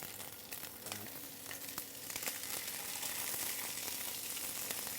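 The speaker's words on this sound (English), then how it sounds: "So you want to hear a nice sizzle." A snapper fillet lies skin side down in a hot pan, crackling and sizzling loudly and evenly with no one talking, the sizzle swelling slightly as it settles.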